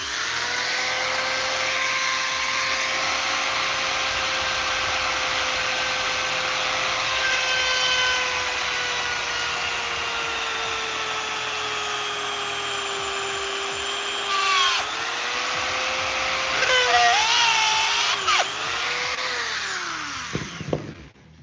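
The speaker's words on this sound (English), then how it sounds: "I'm just going where the lines are where they put the figure together, and I'm drilling a hole in there." A small power drill bores into a plastic action figure along its seam lines, whining steadily for most of the clip, then its pitch wavers and drops as the bit bites and the motor slows before stopping.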